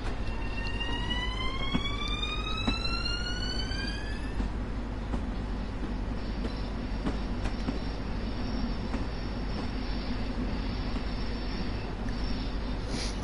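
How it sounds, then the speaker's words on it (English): A simulated high-speed train on Long Island rumbles steadily along the track, with a rising electric whine sweeping upward at the start before settling into a constant low roar and hiss. "When you're in a high-speed train like this"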